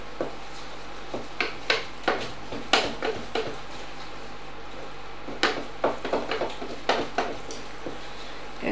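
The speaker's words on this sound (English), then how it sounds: "in we go with the flour. And give it a stir round." Flour is stirred into melted butter in a pan to form a paste, giving irregular short scrapes and knocks of the utensil against the pan, close up over a quiet background.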